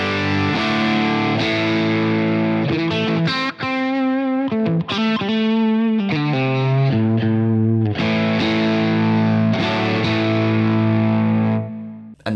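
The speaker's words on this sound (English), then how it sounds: "we can get some sort of more classic Fender Tweed sort of tones" Electric guitar through the lead channel of a Synergy Tone King Imperial MK2 preamp with gain raised for a classic Fender Tweed-style tone, playing loud, sustained driven chords and melodic runs continuously with no talking.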